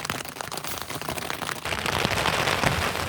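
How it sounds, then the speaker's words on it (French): Rain starts falling around a car on a solo road trip, a dense, loud patter of drops crackling steadily on the surface close by, with no voices. "Bon, ça y est, il pleut."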